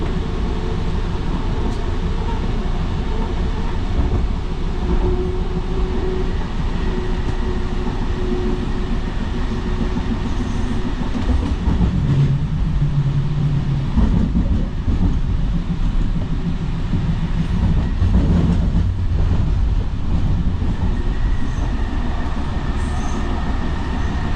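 Steady rumbling inside the JFK AirTrain light rail while riding, with rolling wheel noise and occasional faint squeals, continuous and moderately loud throughout.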